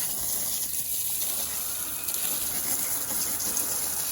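Pressure washer spraying water onto an electric scooter, a Tuttio Soleil or Kugoo Wish, giving a steady, loud, continuous hissing gush close by with no break.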